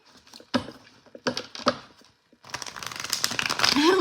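Tarot cards are shuffled by hand in a few crisp, separate riffles and flicks, followed by a longer run of quick, continuous card shuffling close by.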